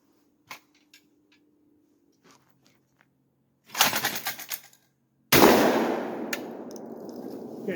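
Shotgun blast fired at a clay target during night training, one sharp loud report that rings out and decays, preceded by a softer burst of noise and scattered faint clicks.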